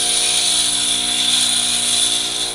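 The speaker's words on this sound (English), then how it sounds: "This is a much finer grinding wheel, so you don't want to push too hard on it." Fine grinding wheel spinning against a lathe bit: a loud, steady high-pitched whine and hiss that holds constant throughout at close range, with no talking.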